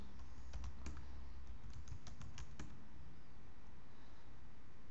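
A computer keyboard is typed on in quick bursts of clicky keystrokes while entering a terminal command on a Debian Linux system, close and fairly quiet, then a quieter stretch follows.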